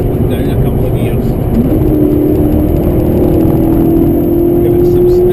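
Maserati MC Stradale engine revving hard as the driver paddles down through the gears, a loud, close engine note heard from inside the car, its pitch climbing steadily, with people talking over it.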